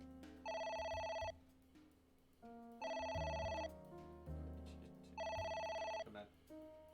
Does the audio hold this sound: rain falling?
no